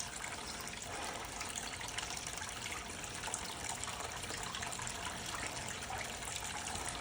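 Water runs steadily through a homemade clear sluice, a continuous rushing wash with no pauses, moderately loud and close, with no talking over it.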